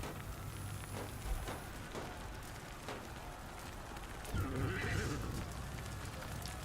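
Horse neighs and hooves in a Crusader Kings III battle scene, a whinny rising midway over steady rain-like noise, with soft clip-clop and voices faintly under it.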